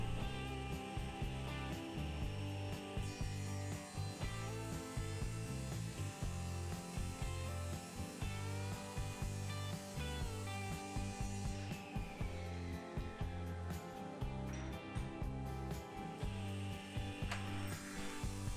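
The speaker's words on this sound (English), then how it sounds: "I start by ripping this cherry blank" A cherry wood blank being rip-cut along its length, a steady, loud whirring saw with a rough, grinding texture that continues throughout with no voices.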